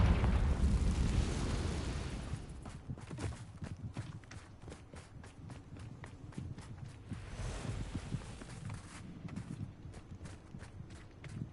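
A Confringo fire spell goes off in Hogwarts Legacy with a loud, roaring blast that fades over a few seconds, followed by a steady run of footsteps.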